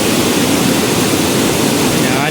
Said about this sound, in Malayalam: അങ്ങ് മുകളിൽ നിന്നാണ് കേട്ടോ വെള്ളം ഒഴുകി വരുന്നത്.